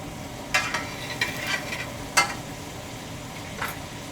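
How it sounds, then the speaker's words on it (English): Apples caramelizing in a pan for apple pie, stirred with a utensil that scrapes and taps the pan several times over a soft continuous sizzle, close and fairly quiet. "Stir this around."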